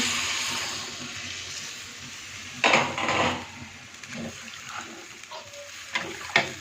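Water poured into a pan of ridge gourd curry, a brief gush and splash around the midpoint followed by softer bubbling and a few clinks of utensils against the pan, over low kitchen background.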